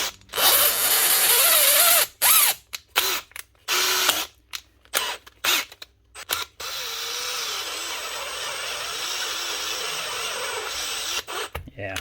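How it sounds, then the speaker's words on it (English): An old 2013 Makita DHP459 cordless drill with a faulty chuck whirs in loud bursts that start and stop repeatedly, then gives one longer steady run near the end. "Now this one is an old Makita drill, DHP 459."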